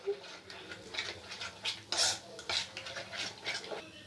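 A spoon scrapes and clinks softly while chicken masala powder is stirred into a mixture in a bowl, making quiet, irregular taps and scrapes in a fairly still room.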